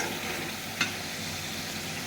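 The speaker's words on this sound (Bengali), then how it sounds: "মশলাটা ঠিক সুন্দর করে ভেজে নেবেন।" Spices fry in a pan for a potato and egg dish, giving a steady, even sizzle throughout with one brief sharper crackle partway through. No one speaks.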